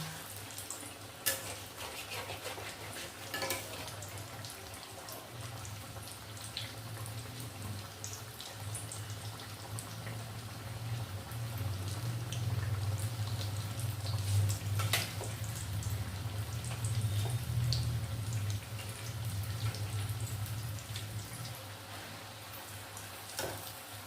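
Lote fish chops hiss and sizzle steadily in hot oil for a Bengali evening snack, a continuous close frying crackle with a low hum beneath and no talking.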